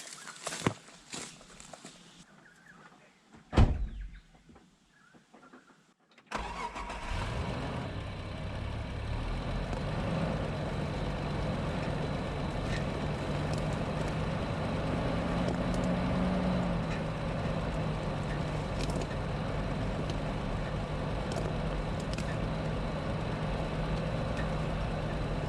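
An off-road vehicle moves slowly along a rocky, freshly cut trail, its engine starting up after about six seconds of quiet with faint footsteps, then a steady low rumble with crunching and knocks from the wheels over rough ground.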